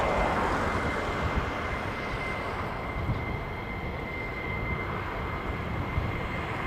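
Fighter jet engines run during hot pit refueling, a loud, unbroken roar and whine that holds steady throughout with no talk.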